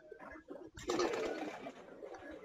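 A flock of about 230 pigeons feeding together on sacks spread on the ground, with soft, low cooing and a dense, continuous flutter and shuffle from the crowd of birds, heard close up.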